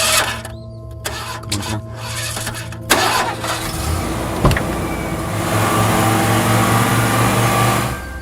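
A car engine cranks and catches at night in a tense horror-thriller scene, a rising motor whine giving way to a steady idle rumble that holds loud and close through the end, with no voices over it.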